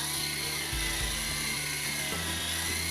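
Radio-controlled model airplane flying, a continuous high, buzzing motor whine that shifts in pitch as it passes and stays loud and steady.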